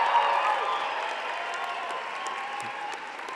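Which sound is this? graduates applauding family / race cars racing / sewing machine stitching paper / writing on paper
graduates applauding family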